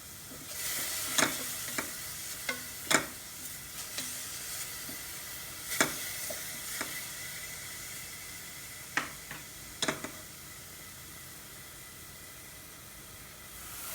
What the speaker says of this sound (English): Here the bottle gourd grating is fried well.